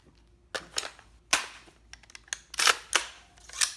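A Ruger AR-556 rifle's bolt slams and locks open after a 20-round magazine, making a series of sharp, close metallic clicks and clacks at irregular intervals with quiet gaps between.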